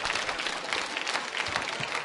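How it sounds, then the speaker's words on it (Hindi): A school quiz-show audience claps for a contestant, brisk dense applause heard at a moderate distance for a couple of seconds. "सोनिका जी के लिए तालियां एक बार जोरदार तरीके से बजाइए"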